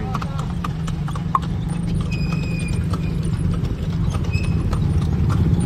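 Horse hooves clip-clop steadily on a downtown street in Dumaguete City as the horse pulls a tartanilla carriage, close and continuous over traffic and street noise, with people talking in the background.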